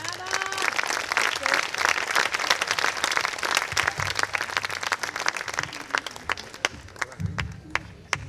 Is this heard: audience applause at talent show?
yes